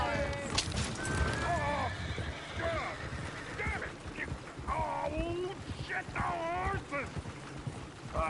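A horse whinnies several times over hoofbeats and a busy rumbling background, with voices talking at moments, in the video game Red Dead Redemption 2.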